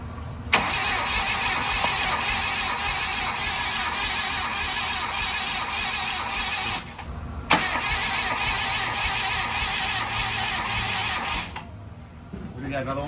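Starter whirs steadily as a 1000HP car engine cranks over without firing, a long continuous grind with a short pause partway, while people talk over it.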